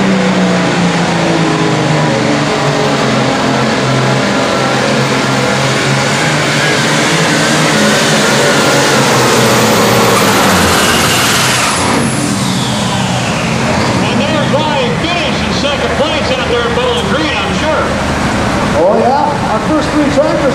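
Light limited super stock pulling tractors at a 2006 Midwest Winter Nationals indoor pull roar continuously at full throttle, loud and close, with a rising engine whine partway through and faint crowd or announcer sound beneath.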